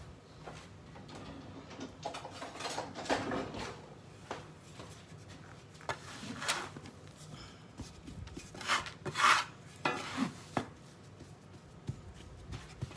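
Metal bench scraper dragged across a floured counter through biscuit dough, a series of short, soft scraping strokes at close range in a quiet kitchen.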